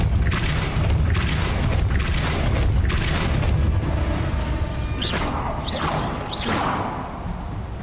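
A Depulso force spell cast in Hogwarts Legacy during a wand battle against Rookwood, heard as loud booming whooshes amid dense, continuous combat rumble, with a few sharp swishing bursts near the end.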